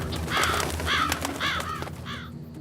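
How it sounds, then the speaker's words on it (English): Crows caw in a cartoon: four loud, harsh caws in an even, repeating rhythm, fairly close, over a low background hum. "Phew, it's just birds."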